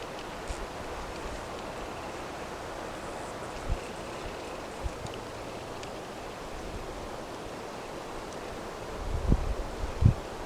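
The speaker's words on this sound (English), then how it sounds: "wind's picking up a little bit." Wind moving through trees around a forest campsite by Sherry Creek, a soft steady rushing rustle with a few faint knocks and a couple of low thumps near the end.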